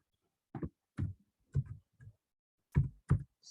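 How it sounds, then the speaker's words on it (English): Computer keyboard typing in short, separate clusters of soft clicks and taps, spaced by quiet pauses, close by and isolated with no talk. "Maybe I should just type."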